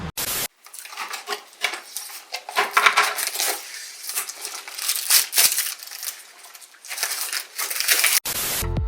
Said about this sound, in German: Bevor ihr die Sticker auf die Karosserie klebt, solltet ihr zunächst die Plastikschutzfolie abziehen.